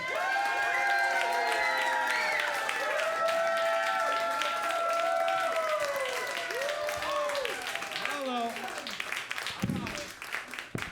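A comedy club crowd on a Sunday night claps and cheers loudly for a comedian taking the stage, with whoops and shouting over steady applause that thins toward the end.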